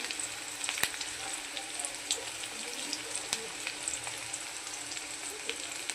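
Onion frying in a pan as a soft, even sizzle with scattered faint pops and clicks, quiet and steady without voices.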